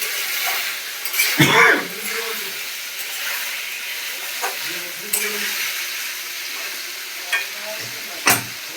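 Spice masala sizzling and frying in oil in a pan, a steady hiss of frying with occasional stirring scrapes and clinks of a utensil on the pan, close and fairly loud, no talking.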